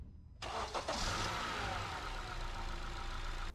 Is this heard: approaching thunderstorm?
no